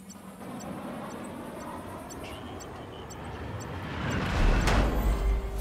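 Airplane engine in the video game Just Cause, a steady broadband roar that holds level and then swells louder toward the end, with no talking.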